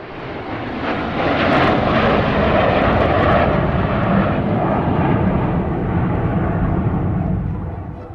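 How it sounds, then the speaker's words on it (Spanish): Military jet aircraft, five flying overhead in formation on Venezuelan independence day over Caracas, a broad loud roar swelling and holding steady before fading, with no talk. "lo primero que vi fue 5 aviones en formación militar surcar los cielos"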